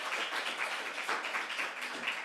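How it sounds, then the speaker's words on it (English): Audience at a closing plenary session of a Club of Rome conference applauds, dense steady clapping heard from a distance, faint and even throughout. "Please an applause."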